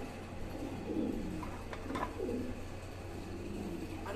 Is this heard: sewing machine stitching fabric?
no